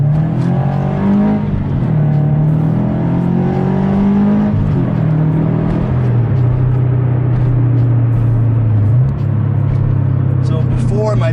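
A Subaru BRZ fitted with new suspension and sticky tires drives and accelerates, its engine drone rising and dipping through gear changes in a loud, close, steady cabin roar.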